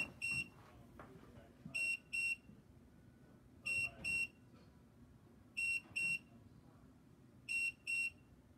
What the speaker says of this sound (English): your machine will beep like you see to alert you of the temperature